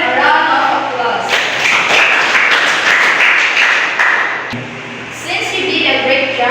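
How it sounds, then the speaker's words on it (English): A classroom gives a student loud applause during a teaching demonstration: a burst of many hands clapping rises sharply, holds for about three seconds, then fades, with voices audible around it. "Can they give them a round of applause?"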